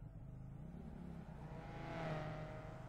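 A Skip Barber race car engine in the iRacing video game at Road Atlanta hums low and faint, then swells briefly as the throttle opens, with no voices.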